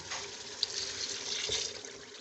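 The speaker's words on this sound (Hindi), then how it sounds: "अब मैं इसमें पानी डाल रही हूँ।" Water is poured into a pan of frying gulfam gosht curry, a steady splashing pour of liquid hitting the hot masala, continuous and close for a couple of seconds.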